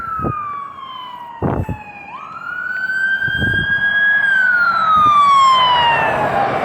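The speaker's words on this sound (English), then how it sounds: "Oh, it's an ambulance. It's not a fire." An ambulance siren wails nearby and loud, its pitch sweeping up and down. A few low thumps sound underneath.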